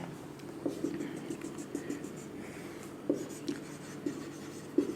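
Pen or pencil writing an answer by hand during a physics class, with soft scratching strokes and a few sharper taps in an irregular rhythm, fairly close and quiet, with no talk.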